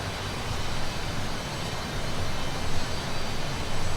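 Helicopter engine in the flight simulator DCS, heard from outside the aircraft, giving a steady broadband jet-like roar with a low rumble that holds level throughout, alone with no talk.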